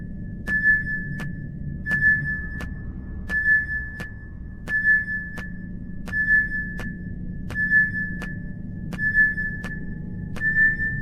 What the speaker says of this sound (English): Synth, check the tracker.